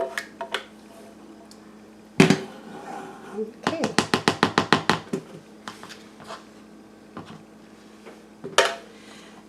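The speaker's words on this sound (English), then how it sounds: "So I'm going to just scrape my blender out" Scraping and clattering against a blender jug, with a quick run of rhythmic knocks in the middle, while a voice talks briefly.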